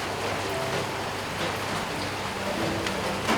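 Rain falling steadily outdoors, a dense wash of hiss and scattered drops on surfaces, with faint voices in the background.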